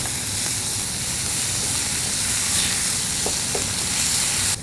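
Spinach seasoned with black pepper, paprika and nutmeg is stirred in a hot frying pan, giving a continuous loud sizzle and hiss with faint scraping from the mixing, close up and without talk.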